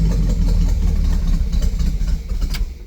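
A Buick 455 V8 idles roughly and loudly up close with a low idle setting, a steady deep rumble that lasts throughout.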